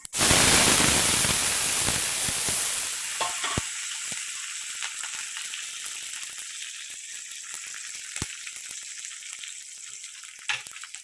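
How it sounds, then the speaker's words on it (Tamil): Garlic, green chillies and curry leaves hit hot oil in a pan with a loud burst of sizzling that gradually settles into quieter crackles and pops, alone without speech. "இந்த பூண்டு இந்த பச்சை மிளகாய் கருவேப்பிலெலாம் சேர்த்துடலாம்"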